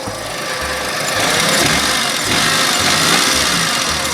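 A car engine idles steadily up close while a mechanic checks it, a continuous mid-pitched hum with a faint uneven knock pulsing through it, loud and without talk.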